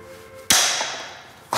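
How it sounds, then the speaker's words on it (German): A hammer strikes a pane of glass once with a sharp, loud crack and a long bright ring that slowly fades. A second blow lands just as the ringing dies away. "Dann hau mal das Glas kaputt."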